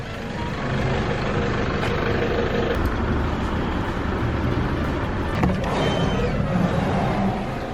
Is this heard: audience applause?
no